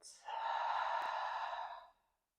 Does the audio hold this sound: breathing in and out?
yes